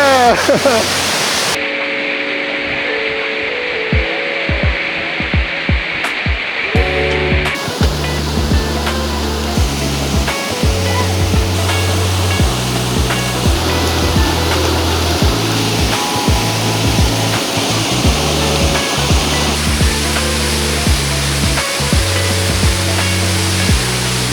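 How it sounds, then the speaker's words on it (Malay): A loud, continuous rush of falling water at Kanching Waterfall, broad and steady throughout, close by. "And bunyi waterfall ni sangat-sangat kuat."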